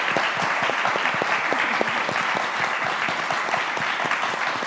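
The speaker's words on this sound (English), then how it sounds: "So if I can have a round of applause for our panelists." An audience claps steadily for the panelists after a panel discussion on performing gender and dance, a dense, sustained round of applause with scattered individual claps standing out, no talk over it.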